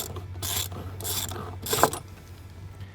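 A ratchet loosens the 10mm bolt on a Toyota Tacoma's throttle body clamp, giving three bursts of clicking about half a second apart, close and fairly loud over a steady low hum.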